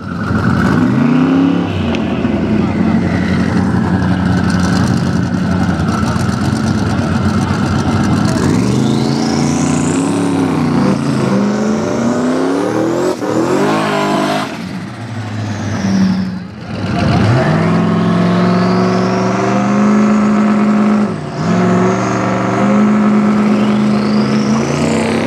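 Doug's notchback Camaro and a turbocharged Camaro drag racing at a Cash Day event in Tucson, loud engines roaring and revving with rising and falling pitch sweeps that carry throughout, nearby and continuous, with a brief dip midway.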